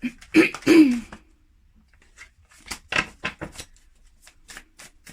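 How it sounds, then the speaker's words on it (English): Tarot cards being shuffled by hand, a couple of loud riffling bursts at the start followed by quieter scattered flicks and slides of the cards. "So we're just going to go ahead and start shuffling the cards."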